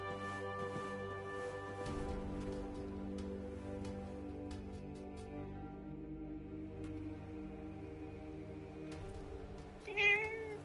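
A cat meows in the Forspoken video game, a short clear call near the end over a steady bed of ambient game music and atmosphere.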